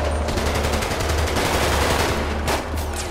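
Dense, continuous gunfire in GTA 5, rapid automatic bursts with a few louder sharp shots toward the end, loud and close with no pauses.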